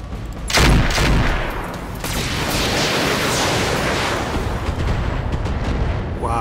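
Mech cannons and missile launchers in a combat video game fire in a dense sustained barrage, with a heavy burst near the start followed by continuous rumbling blasts and crackling impacts, no talking.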